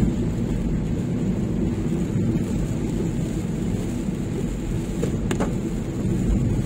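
Heavy monsoon rain pours during a car drive on the Mumbai–Pune Expressway toward Lonavala, a steady loud wash of roaring noise with road rumble beneath and a couple of brief higher streaks near the end.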